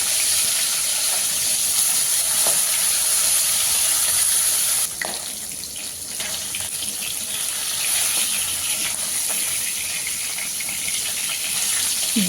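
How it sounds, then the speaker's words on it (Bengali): Small pieces of katla fish head fry in hot oil with a continuous bright sizzle and hiss, steady and close, with a slight drop in intensity partway through. "দুটো সাইডই খুব ভালোভাবে ভেজে নেব।"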